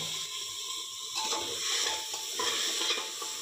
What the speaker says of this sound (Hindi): फिर हम इसे 3 से 5 मिनट तक के लिए फ्राई करेंगे